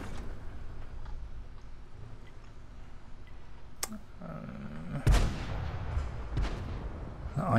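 A tank's main gun fires in the World of Tanks video game during a 59-Patton match, with sharp booming blasts near 3.8 and 5.1 seconds over a steady rumble of engine and battle ambience.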